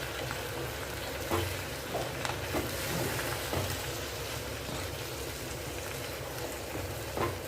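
Button beans sauté in a pan for a kuzhambu, a soft, steady frying hiss with occasional light stirring scrapes, close and fairly quiet.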